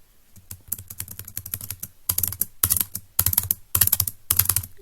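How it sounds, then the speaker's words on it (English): A very noisy computer keyboard spacebar is tapped in rapid bursts, sharp clacky presses coming in quick groups separated by short pauses, close and fairly loud with no voice. "this is me tapping a very noisy spacebar"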